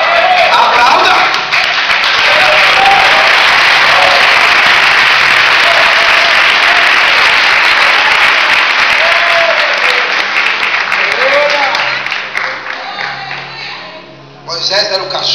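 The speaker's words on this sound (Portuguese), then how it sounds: "Aplauda!" A church congregation applauds loudly and steadily for about twelve seconds, the dense clapping fading toward the end as scattered voices break through.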